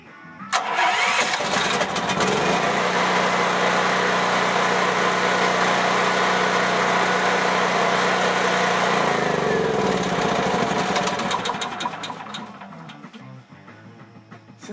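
Generator engine cranks and fires up from a remote battery start, then runs at a steady loud idle before being shut down and fading out near the end.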